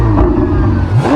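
A Ferrari 488 GTB on its stock exhaust gives a brief loud, close engine rev with a deep, steady tone that rises in pitch toward the end.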